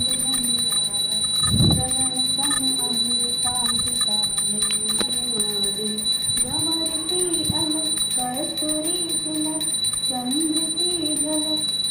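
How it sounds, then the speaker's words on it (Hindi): A bell rings steadily amid devotional singing and chanting during a Hindu aarti to Krishna, with a constant high electronic tone running throughout. "अभी मैं कर रही हूँ अपने कृष्णा जी की आरती।"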